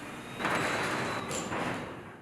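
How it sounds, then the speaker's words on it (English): A garage door driven by a Chamberlain opener rumbles open with a steady low mechanical whirr and rattle, fairly quiet and continuous for a couple of seconds. "The door returns to the fully open position."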